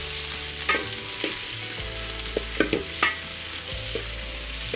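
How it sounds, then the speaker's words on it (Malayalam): About a quarter kilo of shallots sizzles steadily in a hot pan for Kerala-style botti fry, while a spoon scrapes and stirs in several sharp strokes close up, with no voices. "ഇത് നമുക്കതൊന്ന് ഇളക്കി കൊടുക്കാം."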